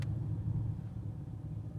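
An Xpeng P7 electric car creeps slowly through city streets in one-pedal mode, giving a low steady rumble of tyres and road noise, fairly quiet and unbroken, with no talk over it.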